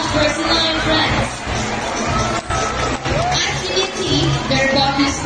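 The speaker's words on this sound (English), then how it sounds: "Another round of applause for Sandra and friends" A crowd at a sea lion show at Manila Ocean Park claps and cheers, a loud mix of applause, whoops and babble with a loudspeaker voice and music running through it.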